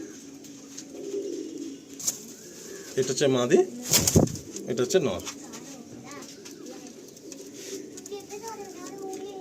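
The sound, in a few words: Abluk pigeons cooing in loft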